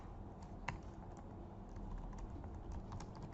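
A computer keyboard is used to type values into code, giving soft, quick key clicks in an irregular run with a few sharper taps, heard quietly and close against low background hiss.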